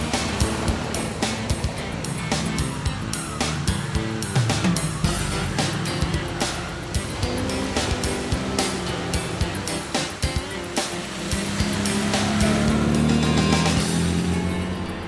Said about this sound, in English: the course director is looking to challenge the cars on all kinds of terrain, and that includes a refreshing dip for both car and driver